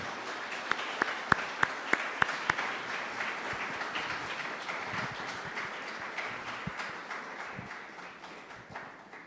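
Warm welcoming applause from an audience at a university event in Mexico, a dense, sustained patter of many hands with a few crisp, close claps near the start, gradually easing off toward the end.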